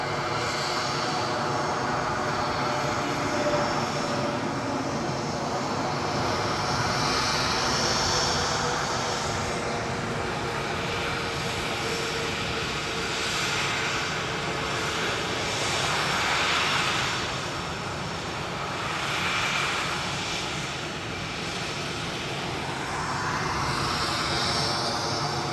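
A Ryanair airliner arriving from Paris at Edinburgh Airport, its engines a steady, broad roar that holds for the whole stretch at moderate distance, with no voices.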